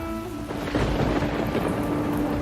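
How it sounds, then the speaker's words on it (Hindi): Steady heavy rain drums on a tin roof at night, a dense, continuous hiss and patter with a low rumble underneath, loud and even throughout with no voices. "बारिश की बूंदें टीन की छत पर गिरकर अजीब संगीत पैदा कर रही थी।"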